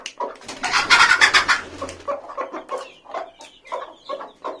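A large white naked-neck frizzle rooster clucks in a close series of short rhythmic calls, starting with a louder burst and then settling into repeated softer clucks, with no talking.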